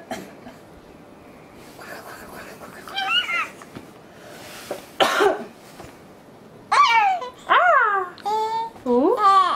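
A child makes a few forced, exaggerated coughs between babbling sounds and short vocal squeals, close and fairly loud.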